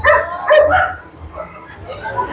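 Dogs at a pet market give a few short yips and barks, close and loud, with whimpering between them, while people talk over the scene.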